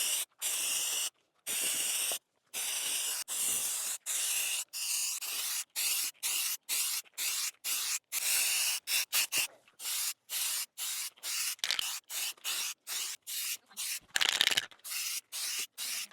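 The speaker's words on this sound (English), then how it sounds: "I'm gonna start with this primer." Aerosol can of primer spraying van trim on a Ford Transit in many short bursts, close up, separated by brief silences, with one slightly longer spray near the end.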